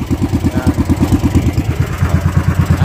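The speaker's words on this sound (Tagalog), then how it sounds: "Yan, naandar ang ating makina." A motorcycle engine runs close by with a steady, rapid throb, its low pulses repeating evenly like an idle for the whole stretch, with no voices over it.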